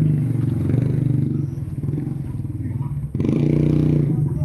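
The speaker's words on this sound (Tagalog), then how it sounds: "May dumadaan na motor guys. Natunog yung motor nila guys." A passing motorcycle engine drones steadily nearby on a goat pasture, rumbling low throughout with a brief dip before picking back up.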